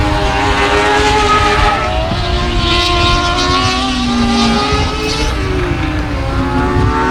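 Race cars in a heat race at 281 Speedway roar loudly and continuously, several engines droning and shifting pitch as the field passes, close and dominant with no voices.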